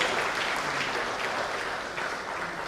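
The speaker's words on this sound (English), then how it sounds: "Please give her a round of applause." Sustained, steady applause rolls through a university lecture audience honoring a professor, fairly close and even from start to end without clear speech.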